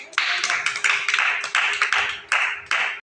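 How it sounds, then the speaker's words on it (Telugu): A group of pre-primary schoolchildren claps in a classroom, giving about ten quick, uneven bursts of hand claps that stay close and loud and end abruptly. "క్లాప్స్"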